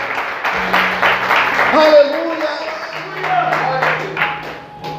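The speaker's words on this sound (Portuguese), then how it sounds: "Em nome de Jesus você pode aplaudir e exaltar o Senhor nessa noite" In a church service, a congregation claps along while a voice shouts over them and sustained instrumental tones ring underneath, the applause a steady mid-level patter beneath the speech.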